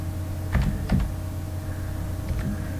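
A computer keyboard typed on for numpy code, a few soft key clicks in two small clusters over a steady low hum, no talking.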